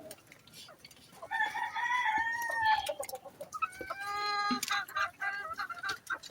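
A bull stag gamefowl rooster crows loudly and close by, with two long harmonic crows broken up by clucks and farmyard fowl noise.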